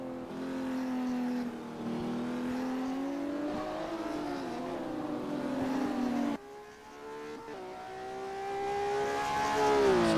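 Classic Porsche Cup race car engine in the rFactor 2 racing simulator, a loud continuous drone that rises and falls through gear changes, cutting briefly before climbing again to a strained high-rev whine near the end, with no talk.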